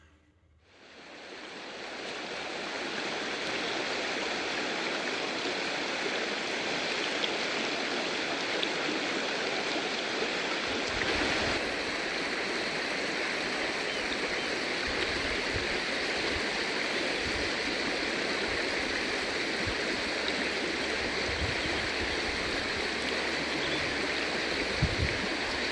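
Steady broadband rush of the Mataura River flowing, close and continuous, rising in from near silence at the start and holding a constant roar with no voices.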